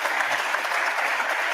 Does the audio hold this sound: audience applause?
yes